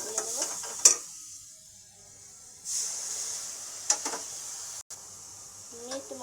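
Spices sizzle in hot oil for a chana matar curry, with a spatula scraping and stirring the pan in repeated strokes, a soft frying hiss underneath and a voice talking briefly over it.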